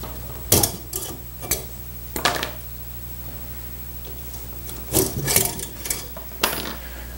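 Old woven strands pulled out of a 1930s drop-in chair seat, giving a handful of scattered dry rasping, scraping bursts with quiet pauses between them, close by and with no talking.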